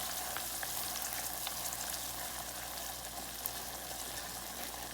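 Melted butter sizzling in a pan for banana pudding French toast while being stirred, a steady close crackling hiss that runs on without a break.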